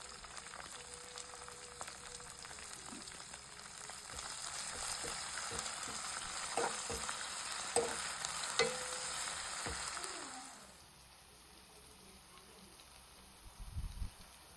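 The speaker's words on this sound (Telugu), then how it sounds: "కరివేపాకు, కొత్తిమీర, పుదీనా ఈ స్టేజ్లో వేసుకొని బాగా వేయించుకోవాలి" Curry leaves, coriander and mint fry in hot oil for a veg biryani, giving a soft continuous sizzle with scattered stirring clicks, then the frying drops away and goes quiet.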